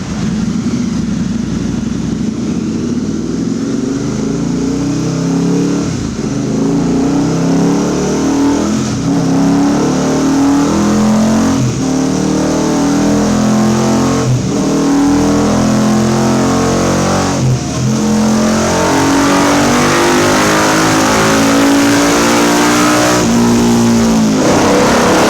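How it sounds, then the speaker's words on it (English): A motorcycle engine on a dynamometer rolls on the throttle and revs up through the gears, each shift briefly dropping the pitch before climbing again, loud and close for the whole run with no talk. "one run just through the gears to make sure we've got the fueling in the right place"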